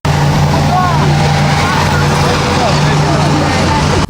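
Old armoured personnel carrier, a BTR, running its engine while being made to float on a river: a loud, steady low drone with a constant hum throughout, voices talking over it.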